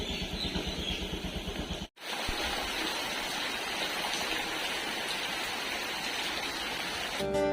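Heavy rain and wind pour down outdoors as a steady, dense roar with no one speaking, briefly cut off for a moment before the downpour resumes just as strongly.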